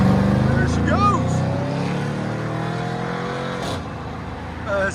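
A 2003 Chevy Silverado SS pickup with a 6.0L V8 and aftermarket exhaust rumbles loudly nearby, a deep steady drone with a rising rev partway through, while people talk over it.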